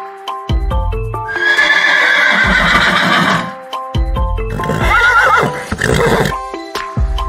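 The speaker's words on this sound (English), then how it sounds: "The horse neighs." A horse whinnies loudly twice, each neigh a long wavering call standing alone against a steady musical background in a farm-animal sound sequence.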